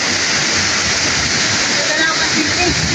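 Lubcon Falls waterfall in Cortes, Surigao del Sur, a loud, continuous broadband rush of falling water, close and steady for the whole stretch.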